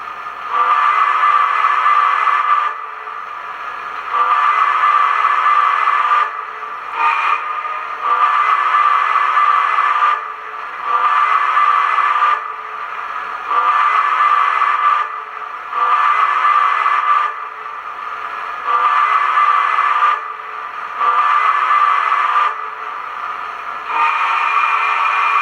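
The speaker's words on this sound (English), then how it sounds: "I feel that streamlined Hudson whistle fits very well with this engine" A loud streamlined Hudson steam whistle with a chordlike tone, from a K-Line Reading Crusader model train with a TMCC sound upgrade, sounds in repeated long blasts separated by short pauses, about ten in all, with no talking.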